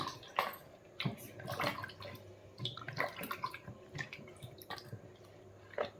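Onions and tomatoes are washed by hand in a bowl of water in a home kitchen, giving soft irregular splashes, drips and sloshes, quiet and close, with no voices.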